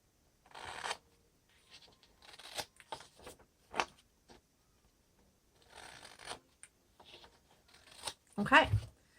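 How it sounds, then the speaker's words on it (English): Scissors trim the edges of washi tape on a junk journal page, producing short, soft snips and rustling paper sounds in scattered bursts with quiet gaps between them. "I just take a pair of scissors and I trim the edges of the washi off."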